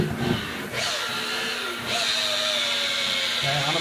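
Power polisher running at slow speed, about 800 RPM, spreading compound on boat gel coat, a steady whirring drone with brief pitch shifts as the pad moves, with talking.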